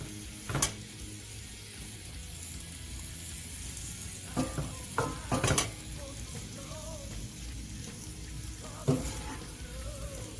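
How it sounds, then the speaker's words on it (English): Corned beef sizzles in a big cast iron skillet: a soft, steady frying hiss broken by a few sharp clinks and scrapes from stirring. "We're gonna go ahead and throw in our corned beef. Love this big cast iron skillet."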